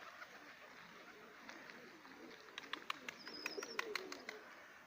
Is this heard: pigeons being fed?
yes